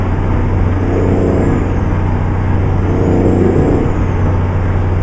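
A truck engine in American Truck Simulator drones steadily and loudly at highway speed, a constant deep hum with a faint high whine, no talk.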